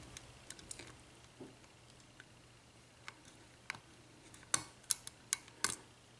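A Sargent 6-pin lock with spool, mushroom and serrated key pins gives faint, sparse metallic ticks during picking, with a few sharper clicks clustered near the end over a quiet background.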